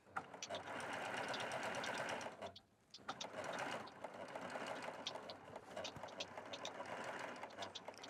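A Baby Lock sewing machine stitches a handbag seam close to the edge, a steady rapid mechanical whir that runs continuously apart from a brief pause early on.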